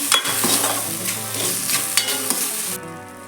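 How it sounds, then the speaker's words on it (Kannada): Curry leaves sizzle steadily in hot oil in a pan for Mangalore-style kadle sukka, with a dense frying crackle, sharper pops and stirring scrapes, close and moderately loud. The sizzle drops away abruptly near the end. "ಸ್ವಲ್ಪ ಕರಿಬೇವು ಹಾಕಬೇಕು ಫ್ರೈ ಮಾಡಬೇಕು"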